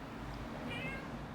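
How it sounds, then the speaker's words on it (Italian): A Eurasian jay gives a drawn-out, cat-like meow, faint and slightly distant over a steady background hiss, with no voices. "come nel caso di questa ghiandaia che sta imitando un gatto"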